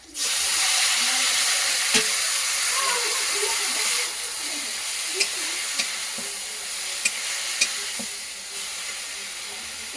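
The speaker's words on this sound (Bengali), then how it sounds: "এবার পেঁয়াজ মশলাটা ঢেলে দেবো" Fried onion spice paste poured into a hot oiled pan for a prawn dish, giving a loud, steady close sizzle and hiss that eases after a few seconds, with occasional sharp clicks and pops on top.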